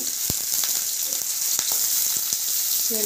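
Thinly sliced onions and green chillies frying in a pan while being stirred, a steady close sizzle with scattered light spatula taps and scrapes, no voices.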